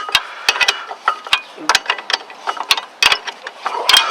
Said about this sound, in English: You have to put a wrench on it.